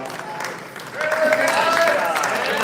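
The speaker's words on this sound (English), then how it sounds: "Round of applause for Alex" Applause from a crowd at a homebrew awards ceremony at the Kentucky State Fair, a steady wash of clapping that grows louder after a brief quieter start, with voices mixed in.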